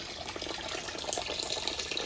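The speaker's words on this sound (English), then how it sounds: "Talk a little bit about the water feature." A solar-powered water feature in a healing garden trickling steadily, a faint, continuous splashing flow of running water with no voices over it.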